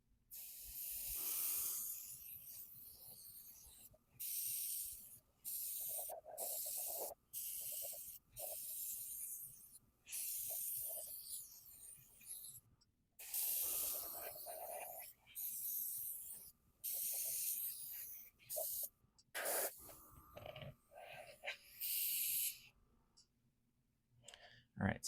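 An airbrush sprays primer across a miniature's base in repeated short bursts of airy hiss, each lasting a second or two and separated by pauses with clicks, close and fairly quiet.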